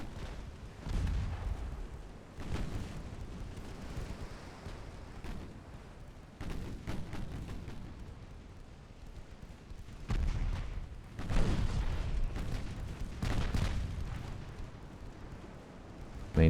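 Warship main guns firing in the video game Ultimate Admiral Dreadnoughts, with repeated heavy booming salvos that roll and rumble through a steady low battle din, some shots landing close together.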